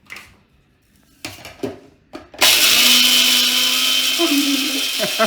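An electric kitchen mixer grinds cardamom pods with sugar, starting with a few short clatters and bursts, then running in a loud steady whir to the end.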